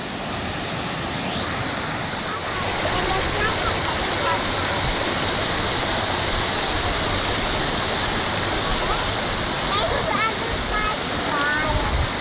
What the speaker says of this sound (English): What a spectacular waterfall.